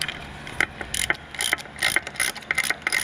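A socket wrench ratchets bolts out of a Yamaha F225 outboard lower unit, giving bursts of rapid metallic clicking in short irregular runs, close and fairly quiet.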